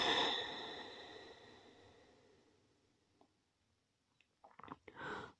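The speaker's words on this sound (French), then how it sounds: "Expire." Slow, deep exhale during gentle yoga breathing, a soft airy breath close to the microphone that fades gradually over several seconds, followed by a few faint mouth and breathing sounds.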